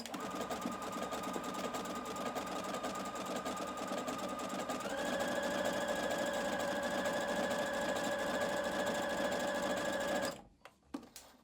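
A Juki HZL70-H sewing machine running overcast stitches, a steady fast mechanical whir and rattle that shifts pitch partway through and then stops abruptly, followed by a few faint clicks.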